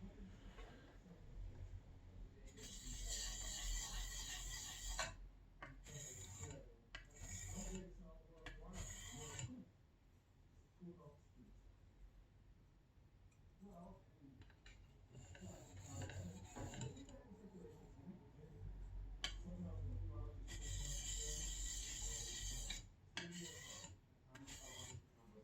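Plane iron honed by hand on a coarse DMT diamond sharpening plate to work the burr: repeated rasping, scraping strokes in bursts with short pauses, fairly close, alternating with quiet handling sounds and occasional low talk.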